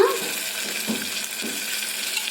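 Garam masala and spices sizzle in hot oil for paneer pulao, with a spoon scraping the pan in a few slow strokes; steady close frying hiss with no voices.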